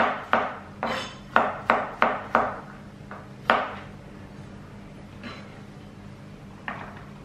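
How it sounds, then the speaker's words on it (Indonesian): A knife chops about five garlic cloves on a board: a quick run of sharp, close knocks, then a few slower, softer taps as the cutting tapers off. "Terus ini si bawang putihnya juga aku potong-potong."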